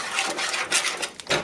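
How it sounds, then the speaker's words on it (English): Choux dough being beaten vigorously in a pan right after the eggs go in for old-fashioned almond puffs: a close, continuous rasping and scraping with uneven surges of strokes. "Now I'm going to add my eggs all at the same time and beat it vigorously until it all comes together."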